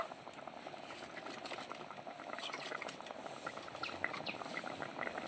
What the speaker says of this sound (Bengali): ভালো করে এবার আমি ফুটিয়ে নেবো